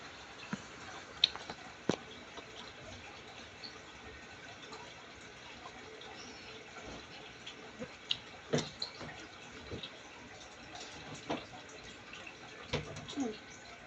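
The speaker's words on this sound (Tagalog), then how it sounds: "Umuulan, guys. Ayan, ang lakas ng ulan." Heavy rain pours down in a steady, faint hiss, with occasional sharper drips and splashes popping up over the continuous wash of water.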